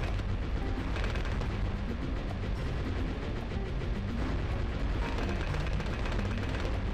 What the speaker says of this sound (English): Dartling gun.